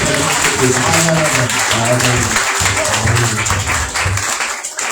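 A church congregation at a Pentecostal worship session in Nkayi claps and cheers in acclaim of Jesus Christ, a dense sustained wash of applause with voices calling out over it, tapering off near the end.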